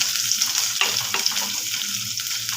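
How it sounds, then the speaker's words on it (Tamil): Finely chopped onion and a green chili sizzle steadily in hot oil in a pan, a constant close-up crackle broken by a few louder scrapes as the mixture is stirred. "இது நல்லா வதங்கட்டுங்க."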